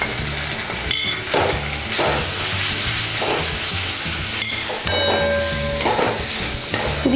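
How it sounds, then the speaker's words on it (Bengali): Ground spice powders (coriander, cumin, chili and turmeric) sizzle and fry in a pan while being stirred for hilsa biryani, with steady sizzling broken by repeated scrapes of a spoon against the pan. "দিয়ে এটাকে আমি ভালো করে কষিয়ে নেব"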